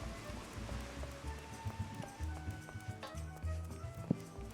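Rain in the video game Final Fantasy XIV, a faint, steady patter mixed with soft game ambience and a few low tonal notes.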